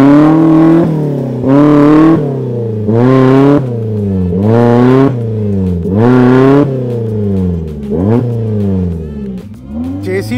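A Mahindra Thar off-road SUV stuck in terrain revs hard in repeated rising bursts, its engine climbing and falling about six times, loud and close, with brief pauses between pulls.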